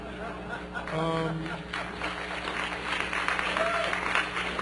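A conference audience at a talk on databases and privacy breaks into scattered applause that carries on steadily beneath a man's continuing speech.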